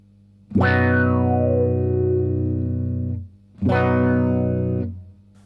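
Electric guitar played through a Strymon Mobius modulation pedal with its filter effect engaged, two sustained chords ringing out loud and distorted, the first sweeping downward in tone over about three seconds, the second following after a brief gap.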